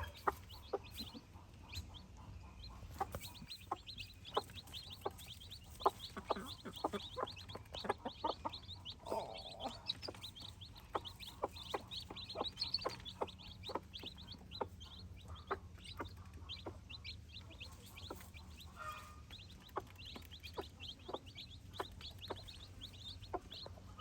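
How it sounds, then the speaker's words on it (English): A broody hen sitting on eggs clucks in a steady series of short, close, soft clucks that continue without pause, with faint background bird chirps and no talking. "I am so happy with this chicken. She's been sitting on eggs for a while now"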